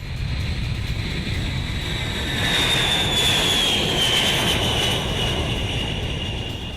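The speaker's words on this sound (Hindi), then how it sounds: "अमेरिकी बम वर्षक विमान B-52 ने उड़ान भरी।" An American B-52 bomber takes off with a loud, sustained jet roar that swells and holds steady, a thin high whine running through it, and no voices.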